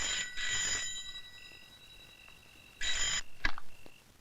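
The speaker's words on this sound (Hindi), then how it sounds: "ले, आ गया तेरे बाप का फोन।" A telephone rings in shrill electronic bursts, two rings separated by a pause, followed by a clunk as the receiver is handled, in a quiet room.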